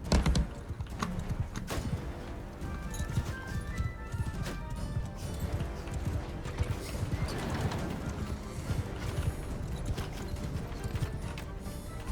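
Horses' hooves clip-clopping steadily in a medieval battle scene of Mount & Blade 2 Bannerlord, layered with constant crowd and combat noise and a brief whinny, no talk over it.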